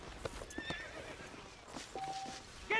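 A horse in the Red Dead Redemption video game gives a thin, rising whinny over a faint clip-clop of hooves and some light background game sound, with no talking.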